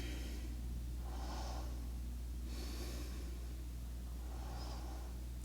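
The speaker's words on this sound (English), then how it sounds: "And just breathe." Deep, slow breathing during a yoga session: several close inhales and exhales in a calm, even rhythm over a low steady hum, with no talking.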